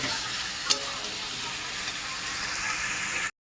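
Spices and vegetables sautéing for khichuri, a loud, steady sizzle with stirring and scraping in the pan, carrying on without pause before it cuts off abruptly.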